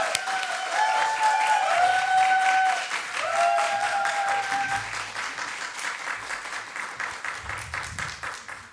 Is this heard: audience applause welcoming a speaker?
yes